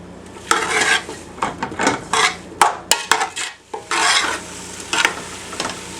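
Mushrooms and onions cook down in a pan while a utensil scrapes and clinks against the metal, giving bursts of stirring over a light sizzle. The stirring comes in irregular strokes, close and fairly loud, with no talking.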